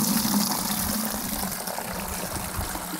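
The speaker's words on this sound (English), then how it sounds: "Now we can just strain this off the concentrate" Grass clipping tea concentrate being strained off, a steady pouring and gushing of liquid that runs continuously and close by with no talking.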